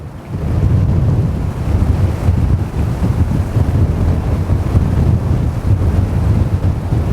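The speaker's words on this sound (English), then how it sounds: "even in such a horrible wind" Strong, horrible wind gusting across Furzton Lake during feeder fishing, a loud continuous roar buffeting the microphone with no letup.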